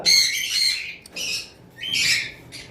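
Lovebirds at a bird farm give sharp, high squawking chirps in about four close, loud bursts separated by brief pauses.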